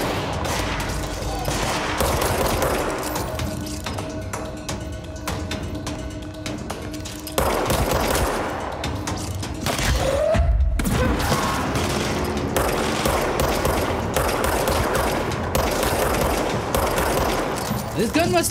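Rapid gunfire from a gun in the video game Control fills the scene with sustained bursts of shots and heavy impacts, loud and close throughout, with a brief lull near the middle.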